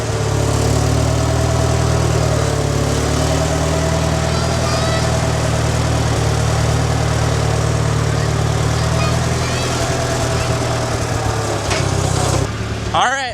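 A loader tractor's engine idles on a farm with grazing chickens and cows, a steady low throbbing drone held close and constant, with a voice talking over it and a brief clatter near the end.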